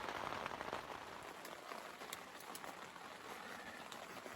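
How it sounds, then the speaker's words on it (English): Rain falls steadily on a camp in Alaska, a dense, even patter with scattered sharper drips on nearby surfaces, fairly quiet and with no talking. "it won't stop raining"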